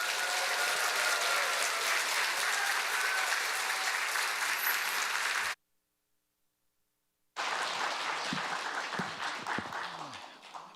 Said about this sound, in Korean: 여러분 크게 박수해 주시기를 부탁드립니다